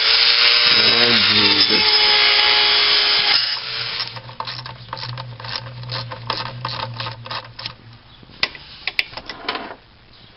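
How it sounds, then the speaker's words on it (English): A Dremel rotary tool whirs in short bursts, reaming a hole up close, with a brief exclamation from a voice and rattling handling noises between passes. "So we're gonna ream the hole with the Dremel."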